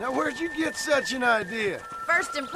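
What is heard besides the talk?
No everyday noise stands out behind the speech.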